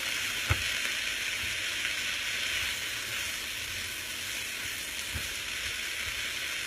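Garlic and soy sauce sizzling in a shrimp stir-fry, a steady close hiss of frying with a couple of soft knocks as the pan contents are stirred, no talking.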